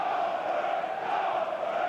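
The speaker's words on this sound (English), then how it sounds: "a very poignant moment of applause there for a young Watford fan" A football crowd at Vicarage Road, Watford, applauds in unison as a tribute to a young supporter, a steady, dense wash of clapping from the whole stadium with no break in it.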